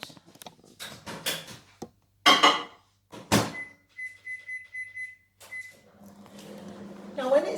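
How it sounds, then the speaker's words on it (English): A microwave oven cooking a chocolate orange sponge, with a door clunk and a steady mechanical hum plus a thin beeping tone running for a couple of seconds, while someone talks before and after. "And then you just put it in your microwave for 5 minutes."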